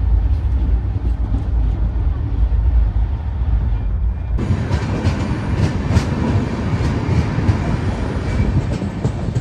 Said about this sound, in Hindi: हमारी गाड़ी पहुंच चुकी है वारंगल में